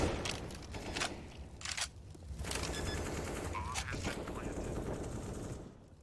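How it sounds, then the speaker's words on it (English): AK-47 rifles fire in Counter-Strike: Global Offensive, rapid automatic bursts in quick volleys mixed with fainter shots, clicks and footsteps under a low game rumble, with a voice talking over it. "these AK-47s ripping through"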